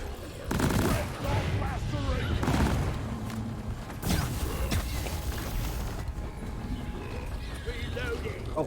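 Video game gunfire in Deep Rock Galactic, with bursts of shots and clattering mechanical bangs at several points during an underground fight, mixed with people talking throughout.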